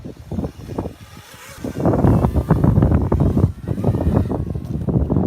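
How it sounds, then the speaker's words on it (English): Gusty wind buffets an outdoor microphone at a drone racing session, a heavy low rumble that swells and surges in uneven bursts for several seconds. "Bit of wind there, eh? Bit of windy."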